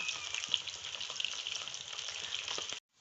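Food fries steadily in a pan with a dense, crackling sizzle that stays close and even for nearly three seconds, then cuts off abruptly into silence.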